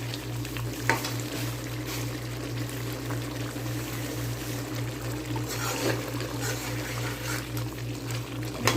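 Spiced masala for chicken karahi frying in a pan, a steady dense sizzle with a low electrical hum beneath and occasional scraping stirs, continuous throughout.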